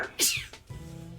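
A single sharp sneeze bursts out close up, followed by a brief voiced sound and quiet room noise.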